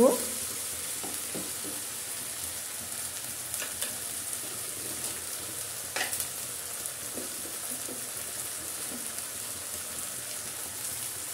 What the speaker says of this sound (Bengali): এরপর মশলাগুলো ভালো করে কষিয়ে নেব।